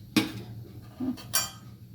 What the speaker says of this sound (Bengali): আলুটা সেদ্ধ হয়ে গেছে এবার আমি পনিরগুলো দিয়ে দিচ্ছি